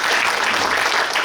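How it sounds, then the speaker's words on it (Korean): A brief, loud burst of audience applause at a Korean public forum, a short dense wash of many hands clapping together close to the microphone. "박수 한번 쳐주십시오."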